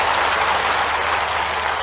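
Steady, dense applause from an audience at a regional industry conclave in Narmadapuram, continuous and full throughout with no talking.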